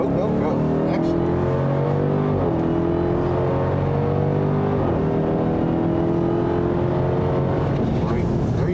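A 2021 Dodge Durango SRT Hellcat accelerates hard on a track, its engine note climbing through gears in rising sweeps, loud and close, with voices speaking over it.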